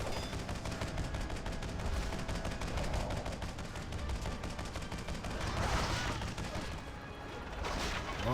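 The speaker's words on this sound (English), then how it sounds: "Love those grenades, baby." Grenades and gunfire burst continuously during a Heroic Grimrail Depot dungeon fight in World of Warcraft: Warlords of Draenor, a dense, loud, unbroken barrage of explosive game effects with faint voice mixed in.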